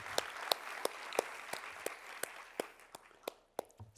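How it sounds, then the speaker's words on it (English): Steady audience applause at a nursing excellence awards ceremony, sustained even clapping from a large crowd with a few louder individual claps standing out before it ends abruptly. "Let's give them a round of applause."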